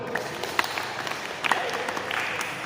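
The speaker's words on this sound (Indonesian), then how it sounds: "Berikan tepuk tangan dulu." Scattered clapping from a small group of students in a physical education class, brief and fairly quiet, with a murmur of voices in the background.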